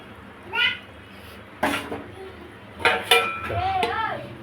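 A metal lid is set onto a pot of simmering chara pona fish curry, giving a few sharp close clinks and clatters, while a voice and other speech sound faintly nearby.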